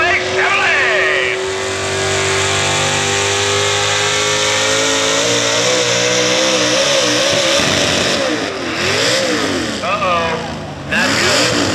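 A modified 4x4 Chevrolet pulling truck at a truck-pulling event roars with a loud sustained engine, pitch climbing and wavering through revs, close and dominant, with brief crowd and announcer sounds underneath.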